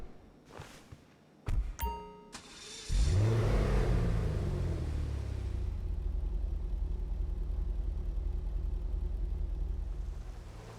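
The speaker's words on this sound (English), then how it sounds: "let's go ahead and listen to the engine startup" Emperor Vectre sports car in GTA Online, modeled on a Lexus RC F, starts up: a few chimes and clicks, then the engine catches with a loud rising rev and settles into a steady, close idle rumble, no talking.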